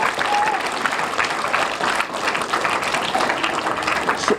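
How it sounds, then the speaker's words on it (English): An elementary school audience gives a warm round of applause for teachers at a career day, a sustained, dense clapping crowd heard close and loud throughout. "Join me in thanking them again with a round of applause"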